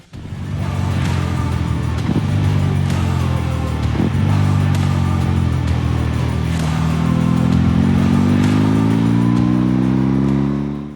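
A BMW R 18 Roctane cruiser's 1800 cc boxer engine runs steadily and close by, its low rumble rising in pitch toward the end as it revs up.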